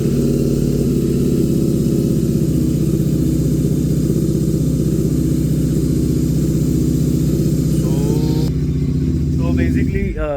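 A modified Royal Enfield GT650 motorcycle in a bike modification workshop runs with a loud, steady low engine throb held at idle for most of the clip before a brief rev near the end.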